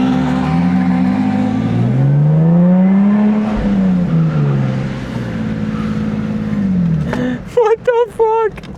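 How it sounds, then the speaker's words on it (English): Cars drifting in tandem donuts roar with rising and falling engine pitch as they circle, loud and close, with voices and a sharp burst of tire or whistle-like sounds near the end. "Random fucking donut tandems."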